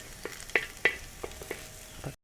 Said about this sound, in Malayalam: അപ്പോൾ ഉള്ളി, ഇഞ്ചി, വെളുത്തുള്ളി എല്ലാം ഫ്രൈ ആയി വരുന്നുണ്ട്.